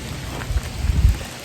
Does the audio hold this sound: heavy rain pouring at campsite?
yes